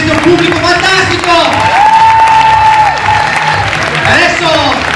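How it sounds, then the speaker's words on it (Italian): A cabaret audience in Verona breaks into loud, sustained applause mixed with cheering and whoops, a dense wash of clapping that continues for several seconds while a performer's voice rises over it. "fatemi un applauso"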